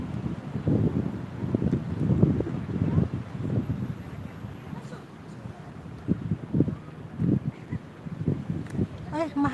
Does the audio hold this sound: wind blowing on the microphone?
yes